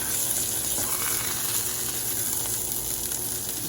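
Thick ribeye steak flipped in a cast iron pan, sizzling loudly in butter with garlic; a steady, dense hiss fills the whole stretch without talk.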